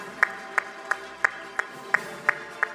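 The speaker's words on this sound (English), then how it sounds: "The applause should continue, please." Steady, evenly spaced hand claps at an award ceremony, about eight sharp claps in a regular rhythm over a quiet room hum, sounding like a few people rather than a full crowd.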